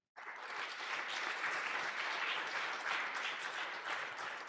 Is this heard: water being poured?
no